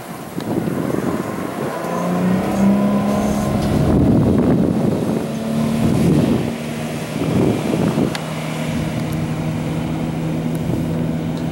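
A 2009 Maycraft 2550 XL boat running on open water, its steady engine drone heard under heavy wind buffeting on the microphone and rushing water, fairly loud throughout with slight surges.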